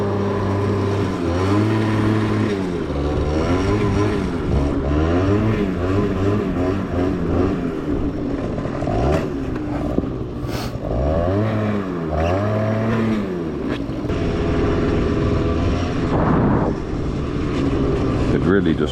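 A TGB snowmobile engine driving through snow, a loud close drone with repeated rising and falling revs across the whole stretch, with people talking over it.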